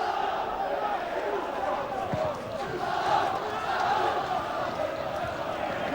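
A football crowd at a Raith Rovers versus Kilmarnock match in 1993 gives a broad, rolling cheer that swells and eases, heard under a commentator's voice.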